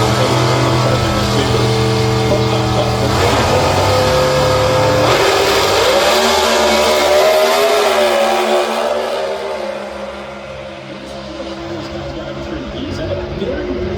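Small block drag racing cars accelerate hard at Sydney Dragway's Nitro Champs, their engines rising in pitch through gear changes with barely any drop, loud and close before fading into the distance, with someone talking over them.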